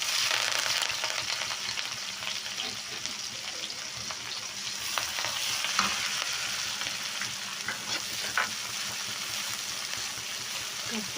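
Big onions with fennel seeds frying in a pan for an eggplant masala, a steady broadband sizzle with faint stirring clicks throughout, close and even, no voices.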